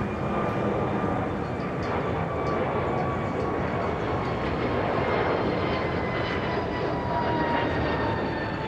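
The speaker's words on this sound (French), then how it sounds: "cet avion capable d'utiliser des pistes relativement courtes est au décollage" A Bombardier CSeries 300 airliner takes off on a relatively short runway, producing a steady, broad jet roar that holds at full strength throughout with no voices.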